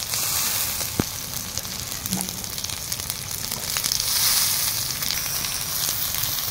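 Chopped tomatoes tipped into hot oil in a pan with ginger and garlic, a loud close continuous sizzle with faint clinks and a brief thump, no talk.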